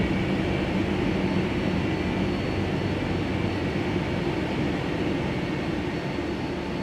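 A jet airliner's engines roar during departure from Qatar, a loud, steady, unbroken drone that fills the whole stretch without any talk.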